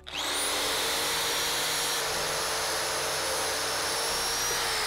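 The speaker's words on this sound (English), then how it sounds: "If you have any particularly thick roots that you need to remove, you can use something like a saber saw." A saber saw cuts through thick roots of a freshly dug bonsai tree, its motor holding a steady, loud, high whine close by for several seconds, with no talking.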